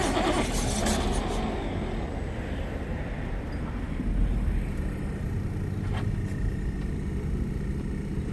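A customer-abandoned 1960 Jaguar S-Type with a 3.8-litre engine runs for the first time in eight years, a rough, low engine rumble that holds steady throughout, with a few faint clicks and no voices.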